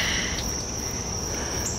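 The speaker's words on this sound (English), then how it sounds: "We've got some lovely crickets, a little bit of rain, and just some lovely atmosphere happening." Crickets trill in a steady high chirping during a rainy night thunderstorm, with soft rain hiss underneath and no talking.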